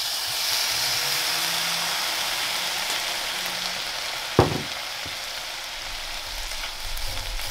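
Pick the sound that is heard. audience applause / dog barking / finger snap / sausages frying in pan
sausages frying in pan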